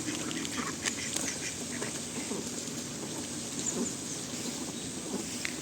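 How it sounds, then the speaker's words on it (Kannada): A few ducks quack at a homestay while rain patters steadily on surfaces; the quacks are scattered and modest under the constant wet hiss. "3 ಡಕ್ಸ್"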